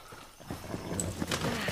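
Horses' hooves clip-clop in Far Cry 6 gameplay, a short run of soft, irregular hoof beats at moderate distance over a faint background.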